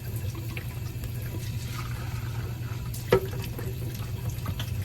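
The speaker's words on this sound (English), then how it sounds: "we're just going to clean both of these waters" Water runs steadily from a tap while chick waterers are scrubbed clean with palm oil soap, a continuous close splashing flow with a single brief knock partway through.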